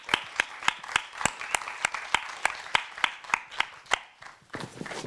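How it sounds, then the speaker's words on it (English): Sparse, rhythmic clapping from a small audience at an artist discussion, a dozen or so sharp, evenly spaced claps close by, ending in a brief ripple. "Clap to that."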